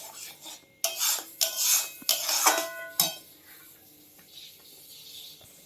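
Ripe mango pulp stirred in a metal wok, a utensil scraping and clanking against the pan in several sharp strokes, then softer rubbing as it trails off.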